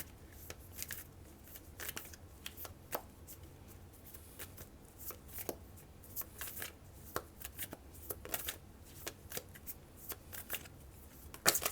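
A deck of tarot cards being shuffled for a reading, with repeated soft riffles and sharp card snaps in an irregular rhythm, close and quiet, without speech.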